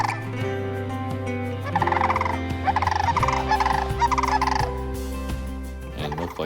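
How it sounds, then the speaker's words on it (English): Sandhill cranes in Michigan calling outdoors, loud rattling, trumpeting calls overlapping in rapid rolling bursts with no talk. "they are sand cranes"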